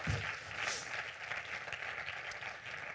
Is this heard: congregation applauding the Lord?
yes